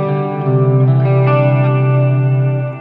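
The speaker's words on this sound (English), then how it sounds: "So we'll get some chorus on there." A sustained electric guitar chord through a Blackstar ID:Series amp, shimmering with a chorus effect, ringing out loud and alone before fading slightly at the end.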